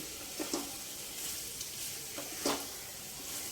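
Mutton frying in a pan sizzles steadily and softly, with a few quick stirring scrapes and small clinks breaking through the even hiss.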